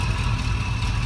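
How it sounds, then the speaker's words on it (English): A 1978 Ford Bronco engine idles with new exhaust mufflers, a steady low rumble held evenly and loud throughout, with no talk. "The motor is keeping itself cool. It's idling perfect."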